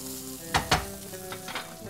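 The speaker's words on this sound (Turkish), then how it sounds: "Bunu sadece bir kere karıştırıyorum." A spoon stirs rice with lemon juice in a bowl for pilaf, making two quick, close scraping strokes followed by a few fainter ones, with no talking.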